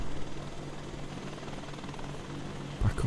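A Chinook CH-47 twin-rotor helicopter from the Red Falcons flight systems mod, flying over Chernarus at night in DayZ: a steady droning hum with a low rotor throb, a louder thump near the end.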